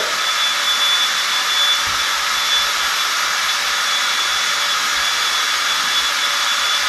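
A homemade rig stripping fishing line off a reel at high speed, a loud continuous whirring hiss with a faint steady tone, running unbroken and close with no talk.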